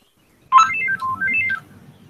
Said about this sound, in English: that was the alarm on my phone going off